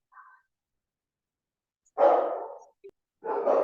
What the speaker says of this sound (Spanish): se escuchan muchos ladridos